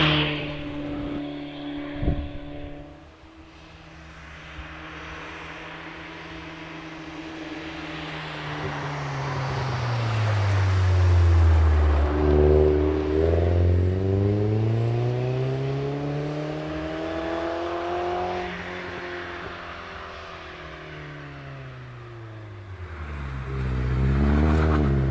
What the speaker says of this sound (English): And away goes the MX-5